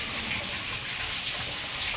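Floodwater rushes and pours through an area filled with water, a loud, steady hiss and gush with no pauses.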